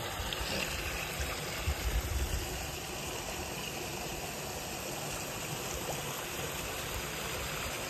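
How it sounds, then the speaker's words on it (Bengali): A babbling stream in Purulia pours as a steady, close, continuous wash of water that stays even throughout, with no one speaking. "কলকল কলকল শব্দ হচ্ছে"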